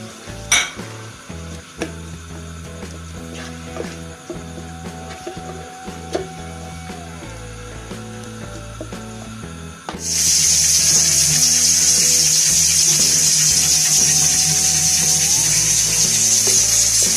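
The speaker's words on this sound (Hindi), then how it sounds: "इन सब का मैं मसाला भूनूंगी" A quiet kitchen hum with light clatter gives way to a loud, steady sizzle of onion, tomato and garlic paste masala frying in a hot pan, continuing to the end.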